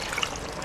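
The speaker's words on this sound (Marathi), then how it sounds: "थोडं पाणी टाकते" Water splashes briefly into a cooking pan of raw jackfruit curry in a home kitchen, a short close trickle and gush.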